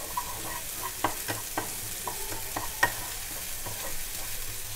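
Ginger, garlic and onion fry in a pan over a medium flame, a steady soft sizzle broken by several sharp clinks and scrapes of a spoon stirring against the pan.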